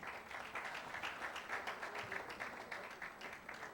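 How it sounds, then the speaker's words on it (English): Conference audience gives panelists at a railway conference in Nigeria a round of applause, dense steady clapping filling the hall, somewhat distant and even throughout. "I would ask that you give the panelists a big round of applause"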